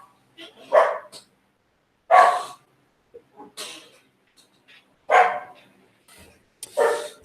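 Small dogs bark in short, sharp yips, five or six loud bursts spaced irregularly with quiet gaps, sounding close in an indoor room.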